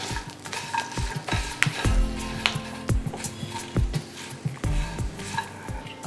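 Fried colocasia (taro) pieces being stirred in a pan with curry leaves and turmeric: repeated scraping and clattering strokes in an uneven rhythm over a light sizzle, fairly close and distinct.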